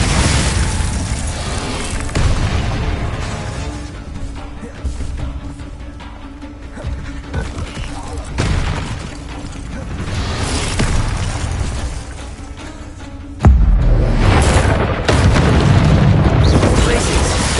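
Confringo fire spells blasting in the video game Hogwarts Legacy, heavy booming explosions recurring over a dense, loud game soundscape, with bigger bursts hitting every few seconds.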